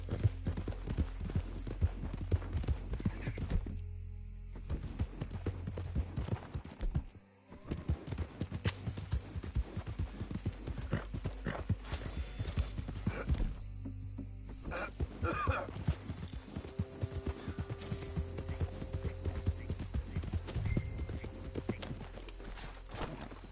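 Horse hooves clip-clopping at a steady ride through a Red Dead Redemption 2 game world, continuous rhythmic beats with a brief dropout near the middle, mixed with ambient game sound and occasional faint voices.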